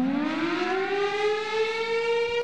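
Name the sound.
bear siren sound effect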